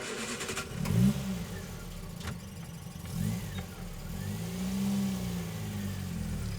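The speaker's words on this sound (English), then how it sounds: "I'll listen to this track again until the car starts to drive off" A car starts to drive off with a low engine rumble that rises and swells in a few revving surges, at moderate distance, with no talk.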